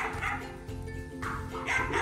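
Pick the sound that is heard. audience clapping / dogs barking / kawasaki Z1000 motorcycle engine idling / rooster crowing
dogs barking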